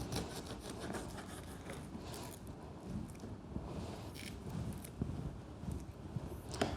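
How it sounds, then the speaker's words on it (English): A knife slices through a pineapple for a drink garnish, giving soft, faint rasping and rubbing strokes, irregular and close, with no voices over it. "So we simply cut a slice of pineapple"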